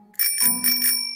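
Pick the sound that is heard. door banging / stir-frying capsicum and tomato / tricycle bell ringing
tricycle bell ringing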